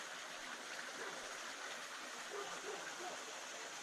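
Steady flowing water at a carp pond beside guest chalets at a country restaurant, a soft continuous broadband rush with no talk over it.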